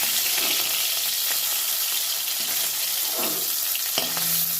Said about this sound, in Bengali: এই তেলের মধ্যে আমি গোটা জিরে দিয়ে দেবো